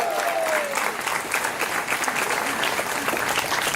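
An audience breaks into loud, sustained applause, a dense wash of clapping that stays strong throughout, with a faint voice or whistle briefly audible at the start.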